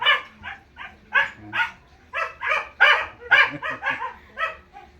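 A dog barks repeatedly in quick, uneven bursts, some sharp and yippy, fairly close, with no one speaking.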